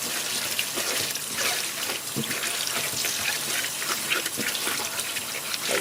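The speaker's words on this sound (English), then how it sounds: "I'm gonna rinse it off." A part of a cooker hood is rinsed under a running tap, giving a steady, close gush of water that splashes and shifts for several seconds with no voices.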